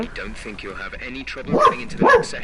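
A dog barks twice in quick succession, loud and close, over someone talking steadily and the muffled hum of a racing game.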